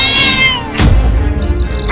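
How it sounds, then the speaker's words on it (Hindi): Cartoon mother cat yowling in a fight with a lion: a loud drawn-out caterwaul that breaks off into a sharp harsh burst of snarling noise, close and alone. "उन बिल्लियों की माँ उस शेर से लड़ गई है अपने बच्चों को बचाने के लिए"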